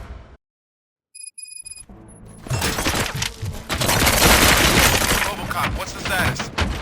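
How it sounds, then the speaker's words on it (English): Gunfire breaks out in the RoboCop: Rogue City video game, a dense loud barrage of shots and crashes after a brief silence and short electronic tones, continuing for several seconds with voices underneath. "Gunshots? What's going on?"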